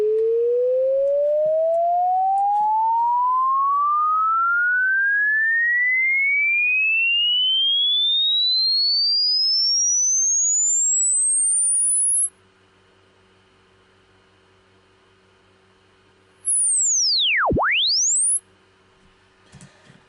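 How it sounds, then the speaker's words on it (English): A pure sine tone from a software oscillator in FL Studio sweeps steadily upward for about twelve seconds, falls silent, then returns as a brief aliased tone that dips sharply and climbs back before cutting off. "what happens when this fundamental frequency, this sine wave on its own, goes above the limit of our reproduction here"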